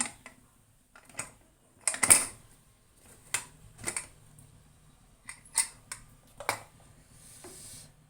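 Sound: opening the lid of a pressure cooker

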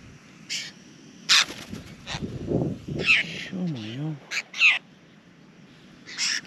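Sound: flock of birds gathering around a camp

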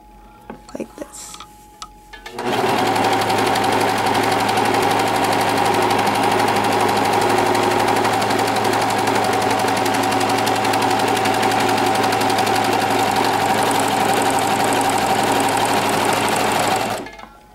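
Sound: Singer Professional 5 serger sewing flatlock stitch on fabric

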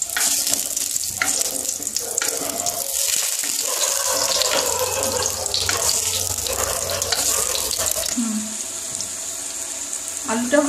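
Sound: potatoes frying in oil

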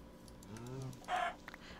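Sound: chickens clucking in a Minecraft modpack video game

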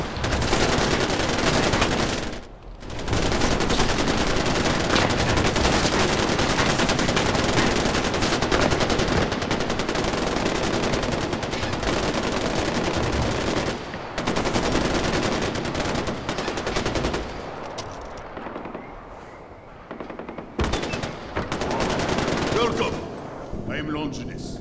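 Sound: gunfire during target practice in Far Cry 4 video game

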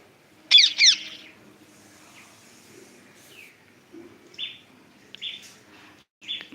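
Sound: sparrows chirping

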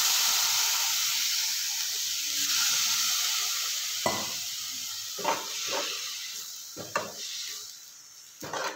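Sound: splash of water sizzling in pan of dried shrimp chutney

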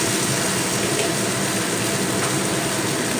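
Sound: hot water being poured into the potato curry

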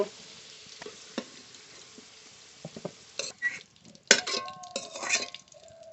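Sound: potatoes frying in oil

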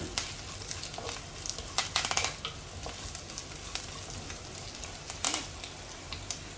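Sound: curry leaves and green chillies frying in oil

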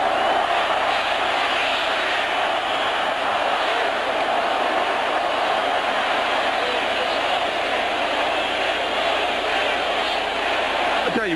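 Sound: NFL football stadium crowd noise from Miami Dolphins fans

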